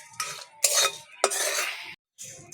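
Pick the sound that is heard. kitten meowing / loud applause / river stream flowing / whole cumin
whole cumin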